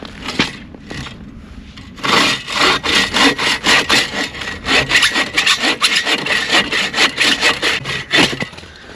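A hand saw rasps through kiln-dried oak in quick, steady back-and-forth strokes, loud and close, after a brief pause at the start, at a winter hot-tent campsite.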